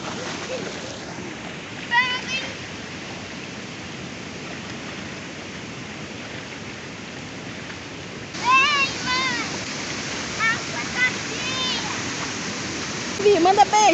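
A waterfall at the ASFRAMA site along BR-174 rushes as a steady broadband roar, with splashing and people talking, including a voice, over it nearby.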